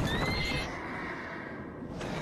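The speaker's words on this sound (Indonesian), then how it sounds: "Tiba-tiba kuda mengamuk yang menyebabkan Chen Yi jatuh dari tebing" A horse neighs in a loud, shrill whinny as it panics and goes wild near a cliff, the cry falling off within the first second, with a faint clatter of hooves beneath.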